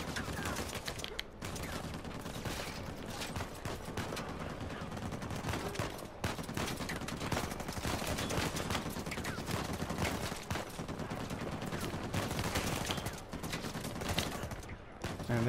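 Sustained, dense gunfire from an enemy in Uncharted 4 on Crushing difficulty, loud and nearly unbroken for the whole stretch, with faint background voices.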